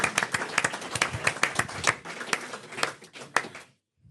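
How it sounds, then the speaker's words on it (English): Live podcast audience clapping for a departing guest named Brad, a dense burst of hand claps with sharp irregular peaks that carries on steadily for several seconds and then cuts off abruptly to near silence. "Round of applause."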